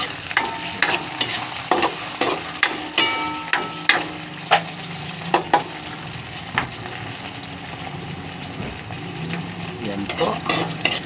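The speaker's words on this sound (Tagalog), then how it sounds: "Ako, inuuna kong gisang sardinas, hindi yung upo." Sardines sauté in a pan for ginisang upo, an irregular series of spoon scrapes and clatters over a steady frying hiss, close by, with a voice over part of it.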